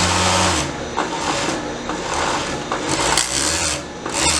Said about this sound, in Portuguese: Então vem costurando, vem overlocando.